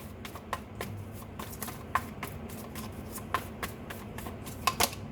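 Tarot cards are handled and shuffled close by, giving a run of crisp, irregular flicks and riffles with a few sharper snaps over a quiet room.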